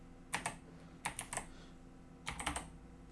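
Someone types on a computer keyboard nearby in three short bursts of quick clattering key clicks, with quiet pauses between them and no talk.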